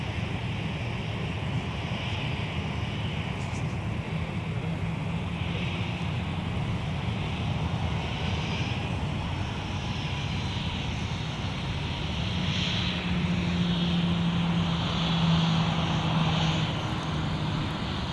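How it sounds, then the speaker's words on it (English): An Eastern Boeing 777 charter glides down toward runway 12 right at Minneapolis–St. Paul airport, a continuous distant jet engine roar with wind rumble that builds slightly toward the end. "There's our Eastern 777 charter gliding down towards runway 12 right."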